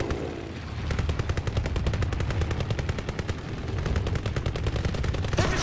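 Sustained automatic gunfire in Call of Duty WWII, a fast even rhythm of loud close shots layered over distant rumbling battle noise, continuing without pause.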